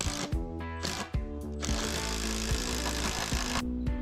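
A power drill bores a pilot hole into a massive timber treehouse strut before it is joined to the top beam. Several short whirring bursts give way to one long, steady run up close.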